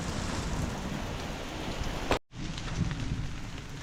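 Steady heavy rain pouring down close by, a constant hiss that briefly cuts out for a moment before resuming at the same intensity.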